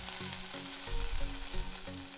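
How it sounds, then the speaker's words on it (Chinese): Scallion whites fry in oil in a wok heated over medium-low flame, giving a dense continuous sizzle with recurring clinks and scrapes of stirring, close and without speech. "中小火把锅烧热，我们来烤葱白。"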